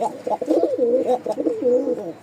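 Lotan pigeons coo close by, a steady run of low, rolling, wavering coos that continues without pause.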